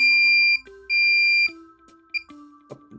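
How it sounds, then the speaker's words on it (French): Electronic calibration beeps from a Minelab Pro-Find pinpointer metal detector, a few steady tones at shifting pitches, close and clear with no talking. "Donc il faut attendre le troisième bip."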